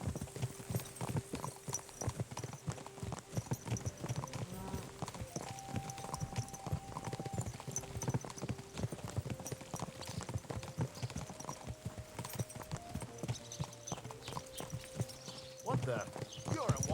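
Rapid, continuous horse hoofbeats clip-clop steadily throughout in the game Kingdom Come: Deliverance II, with occasional tonal game music notes underneath and no clear talk.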